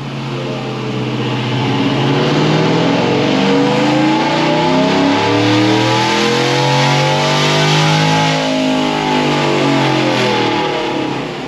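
A 500 hp Chevrolet Tahoe V8 roars loud and close during a dyno pull, its pitch climbing steadily as the revs build and holding near full throttle for several seconds, with no talk over it.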